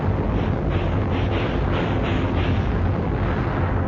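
Cannon fire in an audio drama about a sailing warship, a loud, dense, rumbling roar of guns that fills the whole moment with no pause, with no voices.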